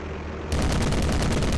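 Bofors anti-aircraft guns fire in the WWII Online battle game, a loud, steady rapid stream of booming shots that kicks in after a brief rumble and keeps hammering without pause.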